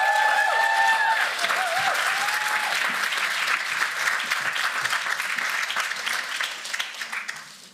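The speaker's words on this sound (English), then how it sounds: "I want you to give the loudest applause to my first singer" Loud, sustained applause from a concert hall audience greeting a singer, dense clapping that slowly fades over several seconds, with no speech.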